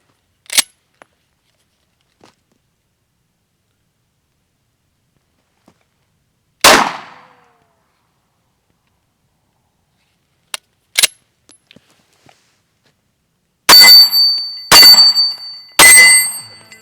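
A Glock 19 pistol fires a few sharp, isolated shots with long silent gaps between them, ending in three loud, close reports spaced about a second apart.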